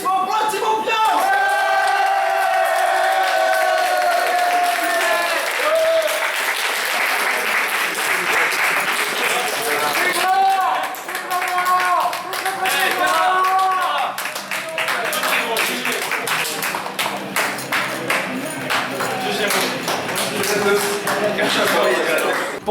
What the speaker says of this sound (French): Un maximum de bruit d'applaudissements pour la team Ambiance.